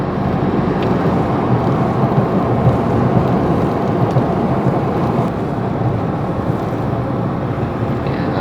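A Chevrolet Colorado pickup on Maxxis tyres cruises at about 70 km/h over a reinforced concrete road, giving a steady, loud broadband rumble of tyre and road noise throughout with no talking.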